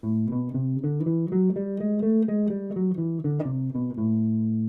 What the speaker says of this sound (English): so you just use both, which gives us a bebop scale